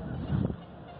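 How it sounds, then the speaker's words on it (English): A single short, honking call of a common moorhen, faint and somewhat distant, rises briefly over quiet outdoor background among longleaf pines in Orlando. "Common moorhen right there. You just heard him laugh."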